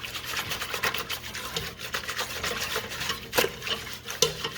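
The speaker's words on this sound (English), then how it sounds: "we are going to just whisk like crazy" Cream and sugar are whisked fast in a pot on the stove, producing rapid, continuous metallic scraping and sloshing with a few sharper clinks against the pot.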